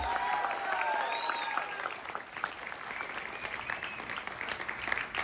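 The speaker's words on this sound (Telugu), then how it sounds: "బిగ్ క్లాప్స్ అండి, బిగ్ క్లాప్స్." A crowd at a diamond celebration function gives sustained applause, a dense, even clatter of many hands clapping together for several seconds.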